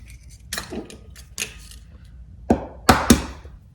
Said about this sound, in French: On va y casser directement les œufs.